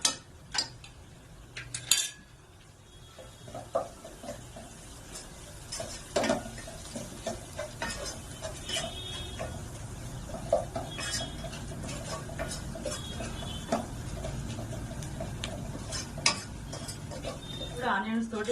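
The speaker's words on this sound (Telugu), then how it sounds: "ఆనియన్స్ తోటి ఇంకా బాగా కుక్ అవుతాయి ఫ్రెండ్స్." Onions with turmeric and salt cook in a pan for Telangana-style mutton curry, with steady low sizzling, scattered utensil clinks and scraping stirs, and occasional speech over it.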